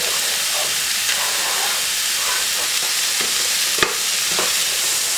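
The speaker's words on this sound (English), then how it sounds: "Adding a little bit more stock." Stock poured into a pan of mushroom risotto sizzles with a steady steamy hiss while a spoon stirs and scrapes, close and continuous with a brief sharper clatter.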